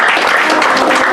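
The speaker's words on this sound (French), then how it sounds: "Applaudis le Seigneur" A church congregation claps in praise of the Lord, a loud, close, continuous wash of rapid applause from many hands.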